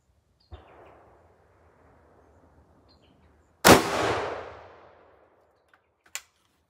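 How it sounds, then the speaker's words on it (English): A .45-70 rifle fires a Lehigh Defense 305-grain solid brass/copper Xtreme Penetrator bullet into a gel block: one loud, sharp blast with a long decaying echo, preceded by a faint click and followed by a brief metallic clink. "Lehigh Defense, 305 grain Xtreme Penetrator, shot number three, also into the gel block"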